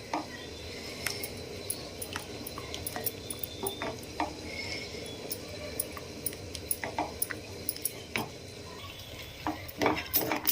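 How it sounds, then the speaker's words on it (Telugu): Grated carrot sweet thickened with corn flour being stirred in a pan, a soft continuous cooking hiss with frequent light spoon scrapes and clicks against the metal. "కలుపుకుంటూ చేసుకోవాలి"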